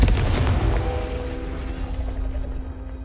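A loud, close explosion from the Confringo fire spell in Hogwarts Legacy bursts out at once, then rumbles and fades over about three seconds, with a faint tonal ring underneath.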